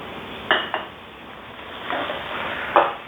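Stir-fried stink beans with minced pork, red chili and shredded kaffir lime leaves are tossed in a pan, with several close metallic scrapes and clinks of a spatula against the pan over a soft background hiss.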